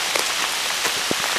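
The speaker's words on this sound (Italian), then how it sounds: "Siamo sotto la pioggia," Steady rain falls during a mountain hike on Monte Murano, a dense continuous patter with scattered closer drops tapping a surface, no voices heard.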